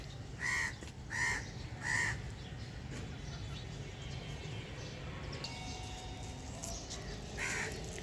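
A crow caws three times in quick succession, moderately near, over quiet rooftop garden ambience, followed by a fainter caw near the end.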